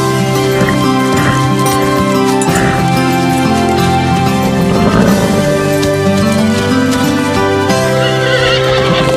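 A mare neighs and whinnies loudly over a dense, sustained background of music, with faint hoof clip-clop and no clear speech.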